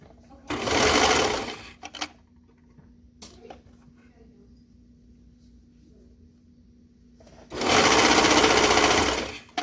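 A sewing machine stitches a stretched band around the leg opening of jogger pants, with two loud bursts of continuous whirring at the start and end and a quieter pause in between.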